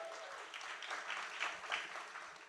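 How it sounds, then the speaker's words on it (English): A round of applause from the audience at a fintech and AI tech week event, dense and steady clapping that fills the room at moderate level for a couple of seconds. "Let's give a round of applause."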